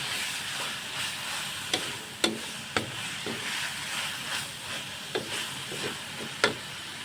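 Thai chili paste and tomatoes being stir-fried in a pan: a steady, soft sizzle broken by sharp scraping clicks of a spatula against the pan every second or so, close up with no talking.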